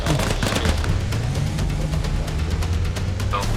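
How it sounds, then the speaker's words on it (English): Rapid bursts of gunfire in the video game Arma Reforger crackle continuously at close range, dense and loud, with a low rumble beneath. "Oh, this is gunshot."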